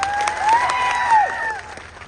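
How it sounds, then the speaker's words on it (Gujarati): Crowd at a political rally in Dediapada and Sagbara clapping for local voters, a brief burst of applause blended with a loud ringing whistle or tone. "એ ડેડિયાપાડા અને સાગબારાની જનતા માટે એકવાર જોરદાર તાળીઓ પાડી લો"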